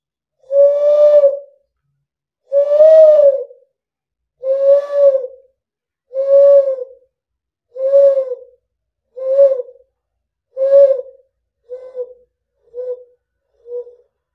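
A man whistles an imitation of the greater coucal's call: about ten deep, hooting notes at a steady, unhurried rhythm. The notes grow softer and shorter toward the end, heard close and alone.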